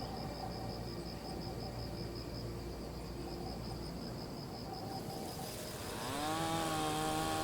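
Chainsaw cutting in the Congo forest, a steady buzzing drone under loud insect and cricket chirring, then revving higher and louder toward the end.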